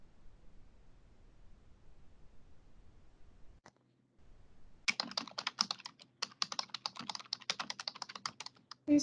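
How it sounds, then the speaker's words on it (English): Rapid keystrokes on a computer keyboard come through an online video meeting, starting abruptly after a stretch of near silence and continuing as a dense, close, irregular patter until the end. "Who's typing? Someone's typing."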